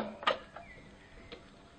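A grass box being refitted onto a Cobra MX46SPCE petrol 4-in-1 lawnmower: one sharp plastic clack, then two softer knocks, close and brief, with near quiet between them.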